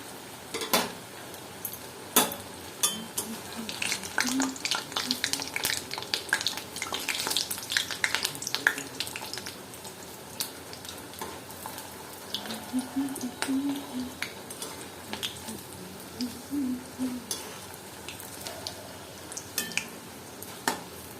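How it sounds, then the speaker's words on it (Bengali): Bread chops frying in hot oil in a home kitchen, a steady soft sizzle running throughout with occasional clinks of utensils and stirring, no talking. "তো তেলটা গরম হয়ে গেছে আমার, আমি এর মধ্যে দিচ্ছি আস্তে আস্তে।"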